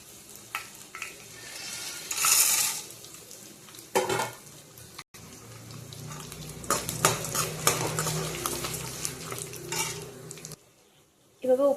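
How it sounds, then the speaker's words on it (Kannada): Roasted gram and peanuts tipped into hot oil with curry leaves for a puffed-rice snack mix, then stirred with a spoon scraping the pan over a steady sizzle, with a clatter partway through and a brief pause near the end. "ಇವಾಗ ಪುಟಾಣಿ ಶೇಂಗಾ ಹಾಕೋಣ"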